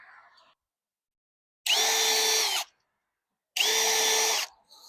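A power drill drives screws into composite decking in two separate bursts of about a second each, loud and close, with silence between them.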